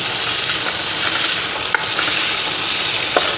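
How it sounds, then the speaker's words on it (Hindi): Half a kilo of minced beef qeema sizzles loudly in a pan, a constant close hiss broken by occasional light scrapes and taps from stirring. "इसे फ्राई करना है हमने।"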